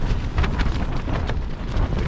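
Strong storm wind gusts buffet a microphone while camping on a cliff in heavy rain, a loud rumbling roar that surges and dips without a break, with no voices.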